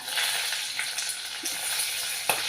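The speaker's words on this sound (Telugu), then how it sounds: "ఆవాలు ఒక స్పూన్. ఇవి కొంచెం వేగాలి." A spoonful of mustard seeds frying in hot oil for a bottle gourd and moong dal curry, giving a soft, steady sizzle with occasional sharp pops close by.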